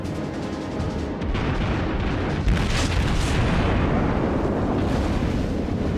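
Naval gunfire in the World of Warships game aboard the cruiser New Orleans: loud, dense booming salvos with a roaring rumble that swells and sustains, and a sharper burst midway, with no voices.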